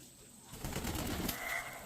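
Pigeons or doves coo softly outdoors against a steady wash of background noise, the low calls swelling briefly in the middle and continuing faintly to the end.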